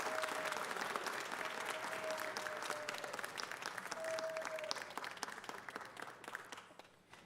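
Audience applause for a musician at an L.A. City Council recognition, sustained clapping from a crowded chamber heard at a distance, tapering off near the end.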